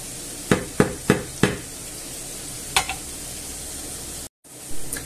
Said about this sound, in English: I'll just gently brown this off as well